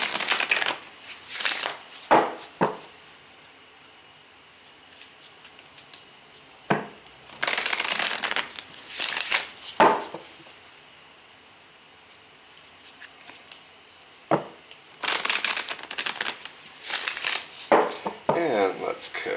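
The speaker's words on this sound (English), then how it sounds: "So let's shuffle these cards a few times." Tarot cards are shuffled in several quick riffling bursts separated by pauses, close and crisp, with no talking.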